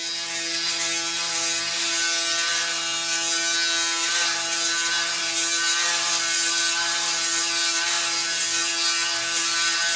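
A Braun Series 9 electric shaver running steadily against facial stubble, a continuous close buzzing hum with a rasping cutting texture, alone and unbroken throughout.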